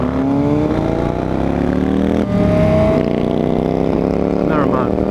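A Chevrolet Corvette engine revs on a city street, a loud steady roar climbing in pitch with a shift partway through, heard close under occasional talk.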